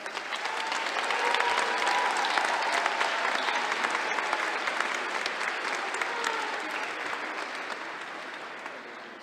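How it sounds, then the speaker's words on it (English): Sustained applause from a large audience, dense and even clapping that holds steady for the whole stretch and tapers slightly at the end. "Please join me in an applause for our master's graduates."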